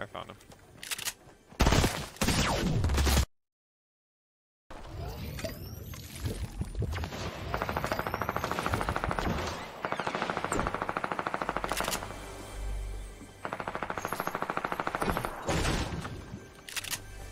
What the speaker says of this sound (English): This guy keeps shooting at me, but I don't know where he's at.